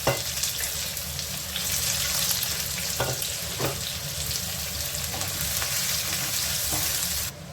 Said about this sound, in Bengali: এখন আমি এখানে পেঁয়াজ দিয়ে দিলাম